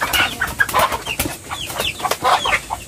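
Backyard chickens cluck and peep in quick irregular bursts close by, with a rustle or two of movement, no voices heard.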